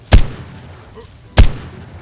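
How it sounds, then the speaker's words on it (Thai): Gun in the Ark Mobile video game firing two shots at a time: two sharp, booming bursts about a second apart, loud and close over faint background noise. "ยิงได้ทีละสองนัดนะฮะ ยิงนี่สะใจมาก"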